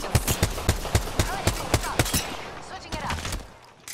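Rapid bursts of automatic gunfire from a battle royale shooter, about a dozen sharp evenly spaced shots over roughly two seconds, then fainter scattered fire and trailing noise, loud and close.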